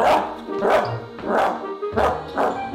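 A dog barks five times in a steady rhythm, close and loud, each bark short with brief pauses between.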